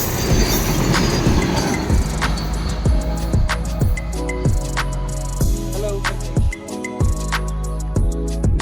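A train rolls past close by, loud rhythmic clickety-clack of wheels over rail joints with occasional squeals, steady throughout.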